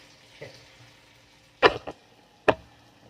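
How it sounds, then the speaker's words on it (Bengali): Chana dal fritters frying in hot oil in a pan give a faint, steady sizzle, broken by a few sharp utensil clatters close by. "এগুলোকে ভেজে নিচ্ছি"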